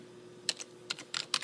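Clicks on a computer keyboard tapped out in a few short bursts of typing, close and fairly quiet, with nothing else heard.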